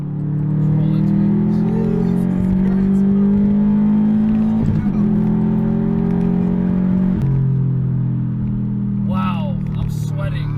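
A Stage 2+ tuned 2016 Subaru WRX STI engine drones loudly from inside the cabin under hard acceleration, pitch climbing steadily through the gears with brief shift dips, while a voice speaks near the end.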